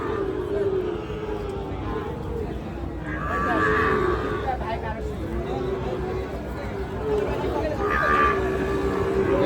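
Sahiwal cattle bellow at a farm, with a couple of long, low moos rising out of a busy background of murmuring people and livestock noise, moderately loud and nearby.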